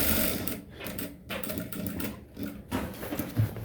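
A sewing machine stitches the hem of a men's garment with a steady, close mechanical chatter, pausing briefly a few times before running on.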